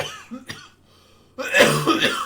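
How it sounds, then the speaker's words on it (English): A man coughs close to the microphone, a couple of short throaty bursts followed by a longer, harsher coughing fit, loud and without other talk. "I apologize for all that coughing."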